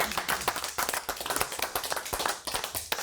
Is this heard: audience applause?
yes